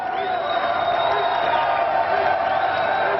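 A crowd on rue du Faubourg Saint-Honoré cheers the arrival of Nicolas Sarkozy, a continuous roar of voices and whoops, steady and fairly loud, with a voice speaking over it.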